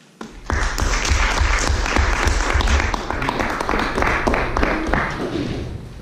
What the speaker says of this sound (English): Let's clap one more time.